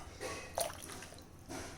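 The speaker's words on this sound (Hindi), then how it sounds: "सारे लिक्विड इंग्रेडिएंट्स हम पहले डालेंगे।" Liquid ingredients, room-temperature water, vinegar and oil, pour into a mixing bowl for an eggless microwave chocolate cake, giving a soft, close splashing and dripping sound in two short bursts.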